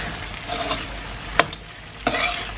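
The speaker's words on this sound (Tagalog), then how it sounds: "And then, haluin." Igado, an Ilocano pork-and-liver dish simmering in cane vinegar, stirred in a cooking pan, giving a soft continuous sizzle with a few sharper utensil scrapes.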